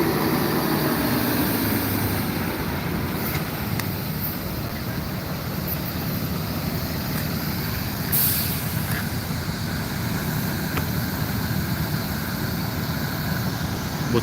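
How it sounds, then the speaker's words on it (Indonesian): Buses pulling into a busy terminal in Palembang, with continuous engine idling and rumble plus a few sharp hissing bursts of air brakes over a dense background of traffic noise. "Bus Padang sama bus Medan."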